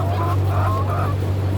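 Poultry in a closed battery cage farm with an automated manure system, heard as a steady low mechanical hum under a close chorus of clucking and calling hens.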